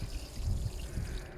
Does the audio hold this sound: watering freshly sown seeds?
yes